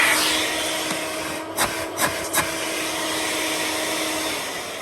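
An Electrolux Twinstream wet and dry vacuum cleaner runs with a steady, even whine, broken midway by three short knocks or bumps.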